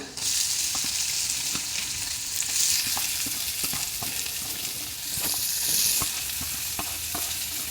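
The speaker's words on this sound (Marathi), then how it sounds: "मंद गॅसवरती त्याला परतून घ्यायचे" Onion for kanda chutney sautéing in a pan over a low flame gives a steady, soft sizzle, broken by regular light taps and scrapes of a spatula stirring, close and without voices.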